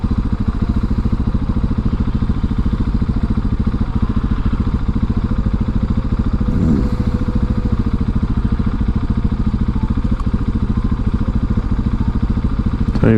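A 2019 KTM 690 SMCR single-cylinder motorcycle engine running steadily while riding, a loud, close, even thumping drone with a faint clatter and little change in pitch throughout.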